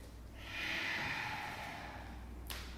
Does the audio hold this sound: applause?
no